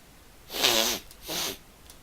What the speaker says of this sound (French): Est-ce que tu entends le reniflement?